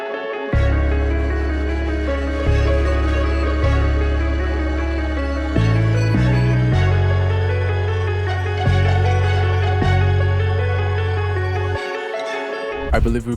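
Pizzicato strings with an arpeggiated melodic texture, made in FL Studio for a type beat and pitched down a semitone, play loud and steady on their own with a deep low bass underneath, and no drums or voices.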